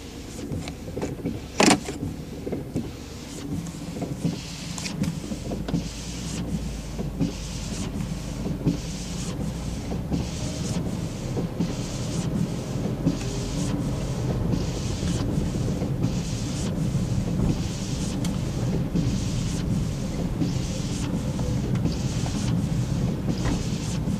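A 2008 Smart Fortwo Passion on a short test drive around a dealership lot: a steady engine and road hum inside the small car, with wind noise and a faint rhythmic ticking throughout.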